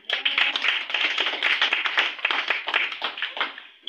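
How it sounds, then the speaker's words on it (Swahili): A church congregation claps hands in praise to the Lord, a dense, continuous patter of many hands close by, steady throughout without voices. "Pigie Bwana makofi."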